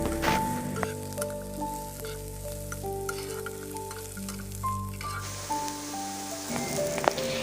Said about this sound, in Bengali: এই মশলাটা এবার আরও 1 মিনিট মতো ভালোভাবে পেঁয়াজের সঙ্গে ভেজে নেব।